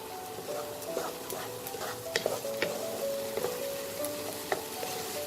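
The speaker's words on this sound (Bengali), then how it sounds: "খুব ভালো করে মিশিয়ে এটাকে কষাতে হবে" Masala for chicken tikka butter masala sizzles in butter and oil while a spoon stirs it, the steady frying hiss broken by sharp clicks and scrapes of the utensil against the pan, close up with no talk.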